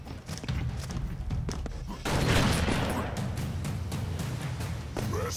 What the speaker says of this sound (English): Everybody gets an explosion. You get an explosion. You get an explosion. Everyone gets explosions.